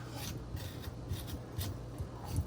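Produce being scraped by hand while preparing homemade juice, a soft, quiet rasping that repeats in short strokes at close range, with no talking.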